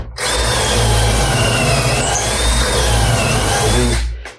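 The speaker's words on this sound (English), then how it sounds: "Drive it in till your motor on your drill kind of seems to bog down a little bit." A power drill whines steadily as it drives a screw into wood, loud and close, running continuously for a few seconds before stopping.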